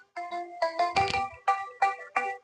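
A mobile phone ringtone chimes loudly in repeated melodic bursts, about seven short tonal pulses in a steady rhythm, close and clear with no talking over it.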